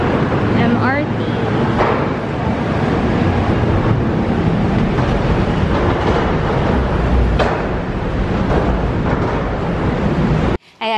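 A continuous loud rumble and rattle of an MRT train in motion, heard from inside, with faint voices underneath, cutting off abruptly near the end.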